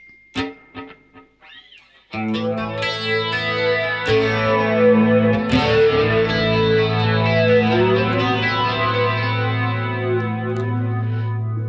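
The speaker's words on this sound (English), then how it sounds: "let's do the flanger and some stereo delay" An electric guitar played through a flanger and stereo delay, panned hard left and right, starts with a few short picked notes, then sustains swirling, echoing chords that ring on and fill the space.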